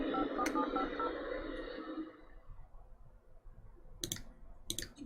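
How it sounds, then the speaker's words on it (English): Faint clicks and short dial tones come from the Grim Reaper phone in The Sims 2 game, with a soft murmur at first, then quiet before two more quick beeps near the end. "let's try and bring him back with the Grim Reaper phone"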